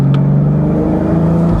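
A 2019 BMW Z4 M40i sports car in Sport Plus mode, with the engine it shares with the Toyota Supra, drones loudly and steadily up close, its engine note holding a strong low hum throughout a short burst.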